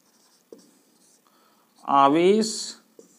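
Marker or chalk writing on a board during a Class 12 physics lecture on Coulomb's law, with faint scratchy strokes at the start and end and a short burst of voice in the middle.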